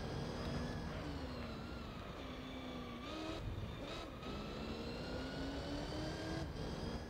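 A Ford GT40 race car in a racing video game drones at a steady high pitch, with brief dips and climbs through gear shifts, continuous and fairly quiet with no talk.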